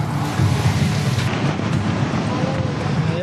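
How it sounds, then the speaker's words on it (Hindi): Torrential rain driven by strong wind in Chitral, a dense, loud, steady roar with gusty rumbling and no voices. "चित्राल में तेज़ हवा के साथ मूसलाधार बारिश"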